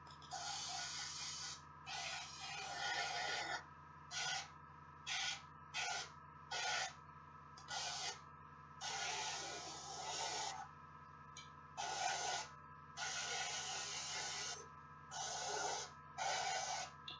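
An airbrush sprays a base coat of paint onto Eldar miniatures in a series of short, close hissing bursts with brief pauses between them. A constant low hum runs underneath, and nobody speaks.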